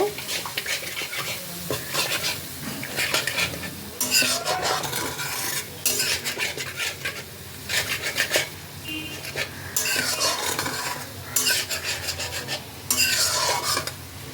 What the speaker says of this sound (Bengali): সব কিছুকে একসাথে ভালো করে মিশিয়ে নেব